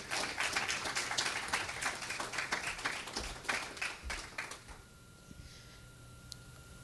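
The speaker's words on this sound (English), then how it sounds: "Give God a hand clap." A church congregation claps hands together in a dense burst of applause that fades after about four seconds, leaving quiet room tone with a few stray claps.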